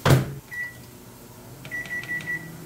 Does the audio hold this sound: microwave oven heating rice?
yes